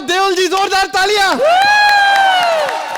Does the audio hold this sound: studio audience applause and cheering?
yes